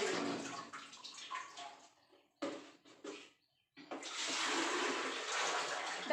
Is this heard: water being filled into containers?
yes